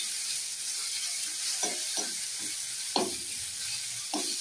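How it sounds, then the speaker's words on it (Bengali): Onion, garlic, tomato, ginger and green chilli frying together in a pan, a soft continuous sizzle with several spaced scraping stirs, close and without talk. "পেঁয়াজ, রসুন আর টমেটো, আদা, কাঁচা লঙ্কা এগুলো সব ভেজে নিচ্ছি"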